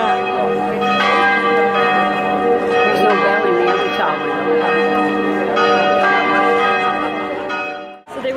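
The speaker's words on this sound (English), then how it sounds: "See the bell ringing up there?" Church bells ring out loud and close in Rome, a series of clangs with long ringing tones that overlap and sustain, struck roughly once a second before fading near the end.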